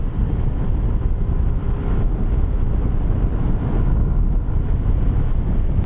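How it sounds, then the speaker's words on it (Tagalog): Loud, steady wind roar buffeting the microphone while riding a Yamaha NMAX V3 scooter, a constant low rumble like rushing air while moving at speed, with no talking. "Lakas ang hangin dito."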